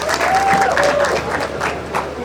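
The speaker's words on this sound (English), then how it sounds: "Clap for yourself." Graduates and guests at an engineering membership induction ceremony clap for themselves in a steady burst of applause, with a few voices and cheers mixed in and a faint whistle-like tone sliding through early on.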